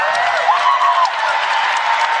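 Minnesota Gophers fans at a Big Ten basketball home game against No. 4 Indiana cheer for the Blanket Lady, a loud, steady crowd roar with whoops and applause.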